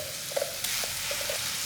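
A ground onion and chili paste fries in hot oil for a spinach onion chutney, giving a steady low sizzle with a few faint stirring scrapes, close and quiet with no talk.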